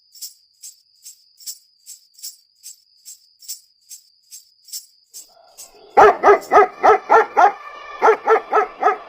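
A dog barks in a steady rhythm, first light and distant-sounding yips, then louder, closer, deeper barks in quick succession.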